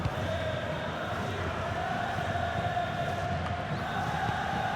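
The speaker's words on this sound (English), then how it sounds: "just listen to this crowd" Continuous roar of a large football stadium crowd in FC 26 during a Real Madrid match, a steady dense wash of voices with no clear peaks, held at an even level throughout.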